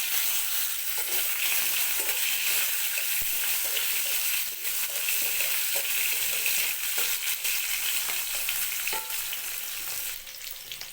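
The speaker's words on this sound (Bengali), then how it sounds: "মাছ ভাজার তেলের মধ্যেই দিয়ে দিচ্ছি আমি কালো জিরে ফোড়নে এবার দিয়ে দিচ্ছি আলুগুলো" Potatoes and papaya frying in a pan of mustard oil tempered with nigella seeds, left from frying fish, giving a loud, close, continuous crackling sizzle with light stirring, no talk.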